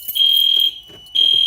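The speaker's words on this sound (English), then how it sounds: "The reason why the fire alarms went off has no reason to do because of the panel." A fire alarm connected during a temporary wiring test blares in two loud, piercing electronic tones separated by a short gap, sounding close and alone.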